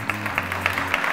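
Brief audience applause after a team is sent off at a quiz competition, loose overlapping claps sounding for about a second and moderately close.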